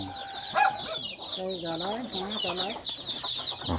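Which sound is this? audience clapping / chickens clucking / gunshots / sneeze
chickens clucking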